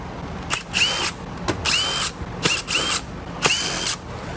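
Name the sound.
power drill removing screws from a Kenmore vacuum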